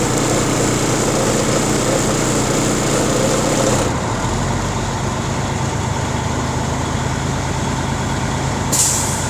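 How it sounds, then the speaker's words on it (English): A loud idling semi truck with a rattling air compressor that suddenly cuts out as the air governor reaches cutout, leaving a lower engine rumble, then a brief hiss of air near the end. "that sound you heard was the air governor cutout"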